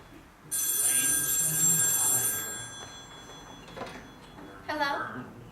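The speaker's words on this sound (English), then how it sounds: "Better answer the phone." A telephone bell rings loudly in bursts indoors, with a voice and other voices heard around and after the ringing.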